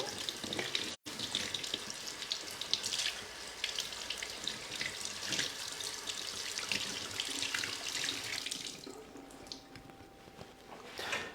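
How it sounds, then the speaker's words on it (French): Tap water runs steadily into a sink while a Thermomix slicer grid is rinsed under it. The splashing rush is continuous and close, then thins and quietens toward the end. "Alors je rince donc la grille."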